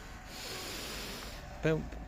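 Air drawn in through one nostril shortly after septoplasty makes a steady, faint hissing inhalation, followed by a brief louder snort near the end, close to the microphone.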